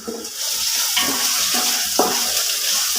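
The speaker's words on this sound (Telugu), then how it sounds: "పచ్చివాసన పోయేంత వరకు తిప్పుకుంటూ వేపుకుందాం" Ginger garlic paste frying in oil while it is stirred for a fish biryani, a loud close hissing sizzle with scraping stir strokes throughout.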